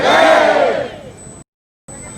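Crowd at a West Delhi BJP birthday celebration for PM Modi shouting the Bharat Mata ki Jai slogan in unison, a loud massed roar that fades out, then a short silence.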